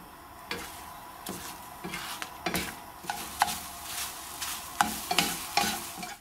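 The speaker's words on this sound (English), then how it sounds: "Heat a frying pan and pour the mixture in." Chocolate gummy egg mixture sizzles and fries in a hot frying pan, with a steady crackle broken by repeated sharp scrapes and taps of a utensil stirring against the pan, close and clear with no talking.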